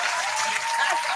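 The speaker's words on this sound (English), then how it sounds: "Can I get some damn claps, man?" A studio audience at a music talk show claps on request, a short burst of dense, even applause that stays level and loud from start to finish.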